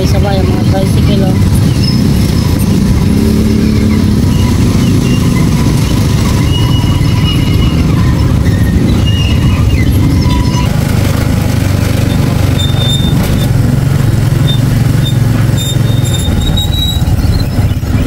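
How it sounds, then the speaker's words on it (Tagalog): Motorcycle tricycles drive together through a busy market in Anilao, Mabini, Batangas, their engines droning loud and continuous alongside squeals, clatter and crowd noise. "Sabay-sabay ang mga tricycle."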